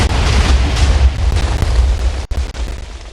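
TNT blows up in the Minecraft video game, a loud continuous roar of rumbling booms with no break, cutting out briefly near the end before the noise carries on.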